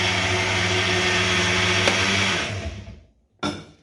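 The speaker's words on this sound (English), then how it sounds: "While I'm doing that blending" A blender whirs steadily while mixing Jamaican bay juice with sweet condensed milk, a loud even motor drone that winds down and stops, then briefly restarts for a short burst.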